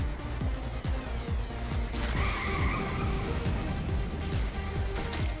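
Car racing the wrong way into oncoming traffic in the video game Saints Row: The Third, its engine droning steadily while tires skid and squeal in repeated bursts, loud and continuous with no talking.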